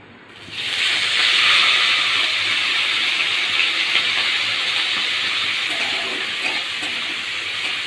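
After a quiet start, a loud, steady hiss of prawns frying in hot oil sets in and continues unbroken to the end.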